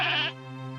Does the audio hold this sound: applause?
no